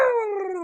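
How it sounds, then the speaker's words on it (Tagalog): A single short dog vocalization used as a sound effect: a close, clear, drawn-out whine that slides slightly downward in pitch, heard alone. "Kahit kahol ka ng kahol"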